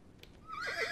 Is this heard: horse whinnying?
yes